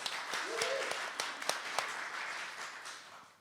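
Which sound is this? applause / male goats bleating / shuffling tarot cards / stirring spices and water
applause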